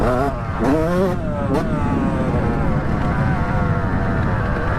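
A Yamaha YZ125 two-stroke dirt bike running on old petrol on a forest ride drones loudly and close, with a couple of quick revs early on before settling into a steady rasping engine note.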